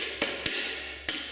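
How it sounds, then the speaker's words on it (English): A dead blow hammer taps a gearbox part into place on a two-speed box, three sharp, close knocks spaced irregularly over a steady workshop hum. "you might have to take a dead blow hammer and tap it"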